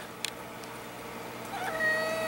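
A house cat lets out a short, fairly faint meow toward the end, following a quiet stretch with a couple of small clicks and no speech.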